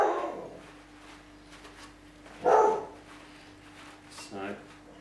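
A dog barks indoors in a kitchen, a few short separate barks heard at moderate distance, with people talking nearby.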